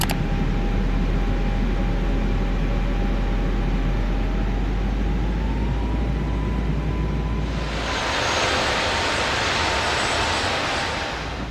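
Steady, loud roar of A321neo airliner engines spooling up during a takeoff roll in a flight simulator game, a continuous broadband rumble with a faint whine, growing brighter and fuller near the end.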